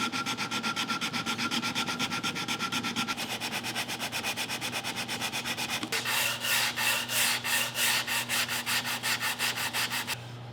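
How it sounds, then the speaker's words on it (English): A power sander works over a wooden board during a beginner furniture build, giving a steady buzzing whir with rhythmic scraping pulses that grow louder and coarser partway through, heard close and alone. "we'll be able to clean that up with the sander"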